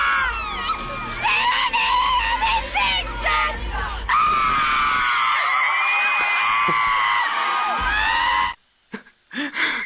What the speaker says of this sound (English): So let's see how loud this screaming was, JD.